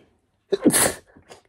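A man sneezes once, close and loud: a sharp sudden burst with a breathy, hissing tail, followed by a couple of faint sniffs.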